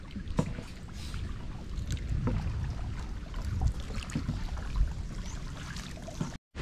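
A small boat moves across water, with steady engine hum, splashing and wind noise washing over the scene.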